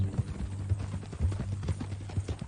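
Horse hooves clip-clopping at a steady walking rhythm in Red Dead Redemption 2, fairly quiet over a low background rumble.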